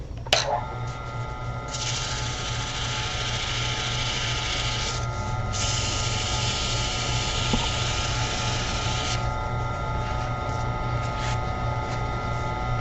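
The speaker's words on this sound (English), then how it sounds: "Once I get it smoothed down like that, I then use these pads. This is 600 grit." A 600 grit pad rubs steadily against the edge of a carved wooden bowl, making a continuous close, dry rasping hiss that shifts slightly in pitch as the strokes change, with no speech over it.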